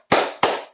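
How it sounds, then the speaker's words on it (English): Three sharp, loud hand claps in quick succession, the signature "Ange clap," each a crisp broadband smack with a short decaying tail, close and unaccompanied by talk. "It's a signature clap. It's called the Ange clap."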